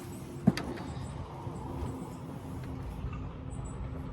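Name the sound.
street noise from traffic on a street corner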